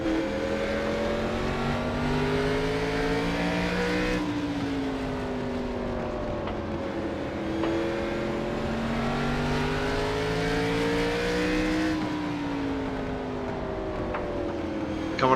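Race cars drive hard into a corner on a circuit, engines droning loud and close, pitch dropping as they brake and then climbing back as they accelerate out, repeating across several passes.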